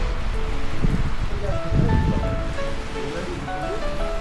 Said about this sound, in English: some rain falling.